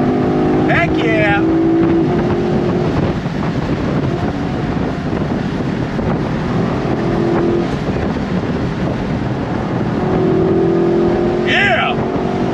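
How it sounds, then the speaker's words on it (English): A 2023 Lexus LC 500 V8 accelerating hard, a loud continuous engine roar with rising harmonic tones and heavy wind rush, with brief voices near the start and end. "Nice sound from that V8."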